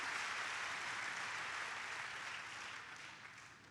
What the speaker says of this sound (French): Je vous laisse les applaudir une nouvelle fois pour les encourager.